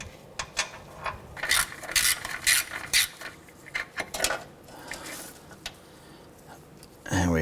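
Ratchet loosening the harmonic balancer center bolt on a 2008-2013 Honda Accord, a run of close, bright ratcheting clicks in bursts with metallic clatter and a few pauses, ending in a louder scrape.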